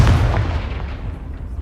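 Confringo explosive spell blast in Hogwarts Legacy, a heavy, close boom with a deep low rumble that decays smoothly over about a second and a half.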